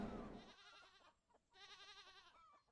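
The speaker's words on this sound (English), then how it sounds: "Those goats are hella loud." Loud goats bleat in a video game farm setting, with a rough cry at the start and then two long wavering bleats separated by a short pause.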